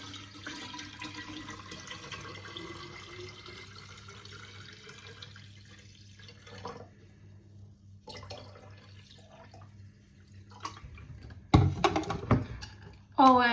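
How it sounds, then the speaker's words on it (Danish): Kombucha is poured into a container in a kitchen, a steady trickling liquid stream running for several seconds before splashing sounds near the end. "nu hælder vi det her."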